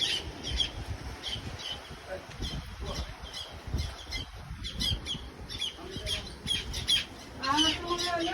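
Birds call and squawk outdoors in Northern Samar, Eastern Visayas, with repeated short chirps and squawks over a steady background hum while people talk nearby.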